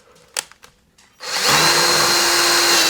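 A few light clicks and taps, then a power drill whirs up to a loud, steady high-pitched spin while attaching a blind bracket, close by.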